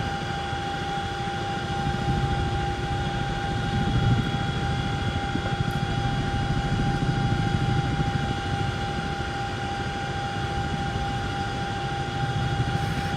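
A twin-engine Chinook helicopter hovers nearby, a steady, loud rotor and engine drone holding constant throughout, a low rumbling roar with a sustained whine.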